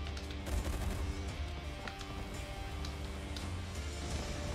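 Naval warship battle game gunfire rumbles steadily under a constant engine drone, with scattered distant cannon and machine-gun bursts blending into a dense, continuous mix of noise.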